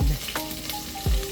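Garlic and ginger sizzle hard in a hot pan as they are sautéed, loud continuous frying with a couple of low thumps and scrapes from stirring.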